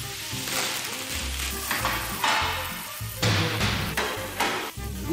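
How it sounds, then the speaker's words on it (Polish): A beef burger patty sizzles in rendered bacon fat, seasoned with pepper, garlic and salt, while it is pressed and smashed in the pan. Steady frying hiss is broken by several loud scraping and knocking bursts from a utensil. "Tutaj ten tłuszcz z boczku robię nam jako baza, więc już fajnie skwierczy od razu."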